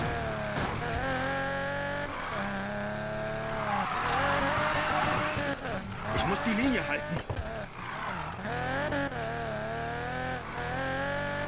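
Car drifting through corners in Need for Speed Payback, engine revving loudly and steadily with tires squealing in long stretches, someone talking over it throughout.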